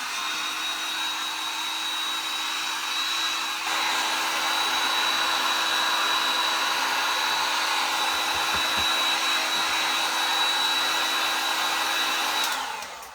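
A hair dryer blows steadily to dry paint on a handmade sign, a loud continuous whine and rush of air close by that rises slightly in strength partway through and cuts off at the end.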